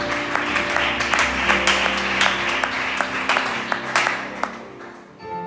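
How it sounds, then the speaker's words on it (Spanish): Inside a church, the congregation claps for a few seconds over soft sustained organ-like tones, with sharp individual claps rising from the crowd before the sound fades out. "Dale un aplauso al Señor"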